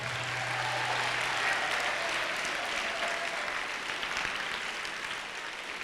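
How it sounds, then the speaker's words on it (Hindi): A school audience of children and parents at a yoga gathering claps steadily for several seconds, a dense, even wash of applause that fades slightly toward the end. "चलो अपने माता पिता के लिए ताली बजाओ जिनके करते हैं।"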